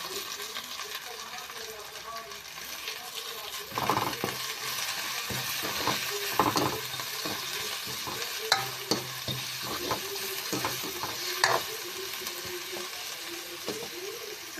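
Cabbage frying and being stirred for kottu, a steady soft sizzle with intermittent scraping and clinking strokes of a utensil in the pan, moderately close and continuous throughout.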